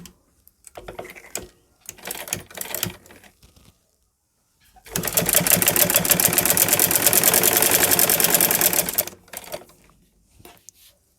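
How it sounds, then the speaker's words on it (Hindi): A sewing machine stitches fabric for a flower latkan for a blouse: several short rattling bursts of stitching, then one long continuous run of about four seconds, close and mechanical, with no talking. "जो हमारी ये खुला वाला साइड है, इस साइड से हम इसके ऊपर सिलाई लगाएंगे।"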